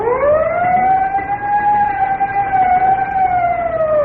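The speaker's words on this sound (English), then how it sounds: "Whenever you hear the siren and bell, think of Texaco Fire Chief gasoline." Fire siren sound effect from the Texaco Fire Chief radio show, a loud, steady wailing tone with strong harmonics that rises at the start and holds level throughout, alone with no talk and no bell evident.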